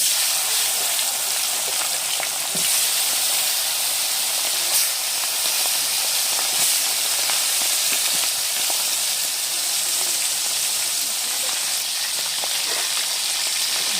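Katla fish head fries in oil under a lid, giving a steady, close hissing sizzle with occasional faint pops and crackles, unbroken and without talk.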